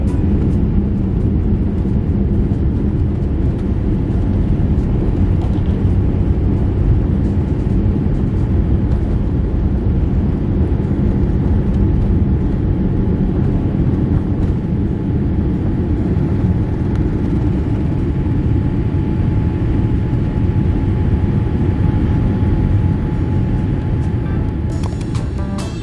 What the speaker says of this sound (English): Around 6:15 p.m., we were pushing back from Gate 1 at Brunei International Airport.